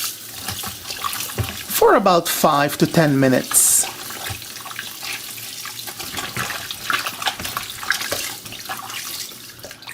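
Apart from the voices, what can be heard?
water running into a basin to soak chicken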